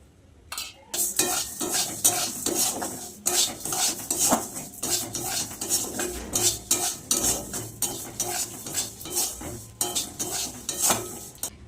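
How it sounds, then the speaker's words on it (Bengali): Moong dal fries in a hot kadai with little oil, with a metal spoon scraping and clattering in quick, uneven strokes. Each stroke lands loud and close, and a faint sizzle sits beneath. "কড়াই কিন্তু গরম হয়ে গেছে ডালটা মুগ ডালটা ভেজে নেবো"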